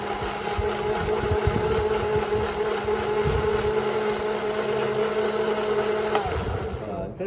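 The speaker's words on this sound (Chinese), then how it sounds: "这是我们家的 blender 哈，" A household blender mixing pandan dough ingredients, a loud steady high whine with constant motor drone, close up, winding down briefly near the end.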